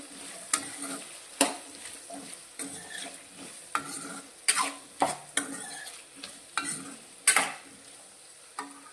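Sautéed potatoes sprinkled with chaat masala are stirred in a pan, with repeated scraping spoon strokes and soft clatter over a light sizzle, close and irregularly spaced, with no talking.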